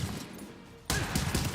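Gunfire in a third-person shooter video game, a sudden loud burst of shots erupting after a quiet moment and continuing as rapid rattling reports.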